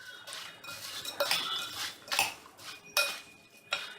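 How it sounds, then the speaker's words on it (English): A metal spoon clinks and scrapes against a dish while mixing shev and puri for Indian street food chaat, giving several short sharp clinks in an irregular rhythm, close and fairly quiet with no talking. "we'll take a spoon and mix up all of this"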